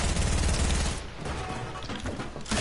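Rapid bursts of automatic gunfire in a shooter video game, loud and close, crackling steadily for about a second before thinning into scattered shots and a final burst.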